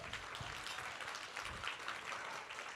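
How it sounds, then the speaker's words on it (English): Quiet, distant applause from an audience at a symposium luncheon keynote, a steady patter of many hands clapping at low volume throughout. "round of applause"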